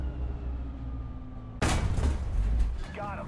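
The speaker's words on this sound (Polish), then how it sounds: "Odłamki zabiły załogę i amunicja wybuchła." A tank's ammunition cooks off in War Thunder, a sudden loud game explosion at mid-clip that cuts through a steady engine drone and rumbles on with crackling debris.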